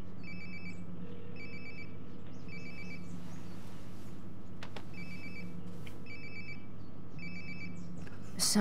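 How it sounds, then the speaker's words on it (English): A mobile phone rings in the Life is Strange: Before the Storm video game, repeating short electronic trill bursts at a regular beat over a low steady background hum, with no speech. "Sounds like my phone is definitely nearby."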